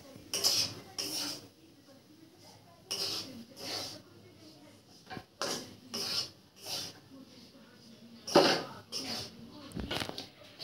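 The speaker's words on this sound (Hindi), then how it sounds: "इसे कंटिन्यूअसली ऐसे ही हिलाते हुए हम इसे भूनेंगे ताकि ये नीचे से जल ना जाए" Besan (gram flour) being stirred and roasted in a pan over a low flame for mohanthal, heard as repeated scraping and rasping strokes of a spoon against the pan, moderately close, coming in irregular bursts.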